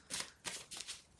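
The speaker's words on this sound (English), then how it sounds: "And just shuffling your tarot for my beautiful air sign friends." Tarot cards being shuffled by hand, several quick riffling bursts close up and fairly quiet, with no talking.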